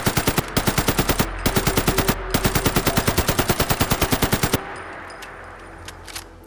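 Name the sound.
R91 assault rifle firing in Fallout 4 video game, modded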